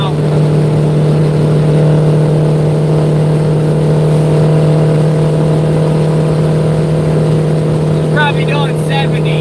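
Vehicle engine held at about 2,500 RPM at highway speed, a loud steady drone with a constant hum throughout and a few brief high chirps near the end.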